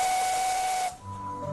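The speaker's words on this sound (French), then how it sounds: "on entend le sifflement strident et le son du roulement de la locomotive massive lancée à toute allure" A steam locomotive lets out a sharp, steady whistle over a loud hiss of steam, which cuts off abruptly and leaves quieter rumbling and tones behind.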